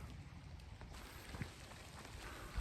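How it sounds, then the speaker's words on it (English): Light rain patters steadily in a soft, even hiss, with a faint tap or drip standing out now and then. "Raining out a little bit."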